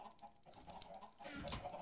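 Chickens cluck on a farm in the Minecraft video game, soft repeated clucks over a faint, quiet backdrop.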